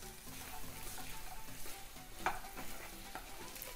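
Fresh peas frying in masala paste in a kadhai, a soft continuous sizzle with repeated stirring scrapes and one brief metallic clink midway, fairly quiet.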